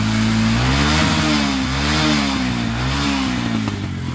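New Bajaj CT150 motorcycle with a noisy engine fault, idling close by with a loud, rough, uneven thrum that rises and dips in short revs across the whole stretch, no talking.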